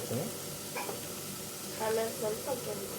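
Browned onions fry with garam masala in a pan, giving a soft sizzle with scraping stirs that come in short bursts, fairly quiet, alongside a low background hum.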